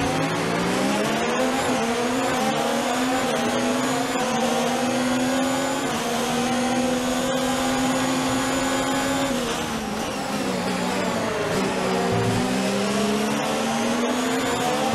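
In the F1 2019 racing video game, a Formula 1 car's high-pitched engine screams continuously, rising and falling as it shifts through gears, with brief dips under braking and light tyre noise, loud and alone.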